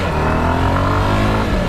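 Honda XRE Sahara 300 motorcycle engine revving up under acceleration, a steady, loud, close droning tone that rises slightly in pitch over a short burst, with no voices.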